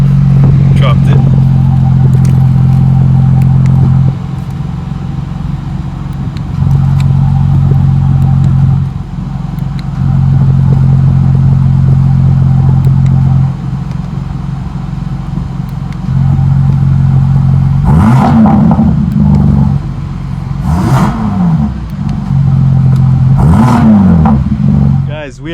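A 2025 BMW M4 CS with aftermarket exhaust, single mid pipe and catless downpipes, idles loud and deep with long steady stretches, then barks out three sharp revs near the end, close up with people talking.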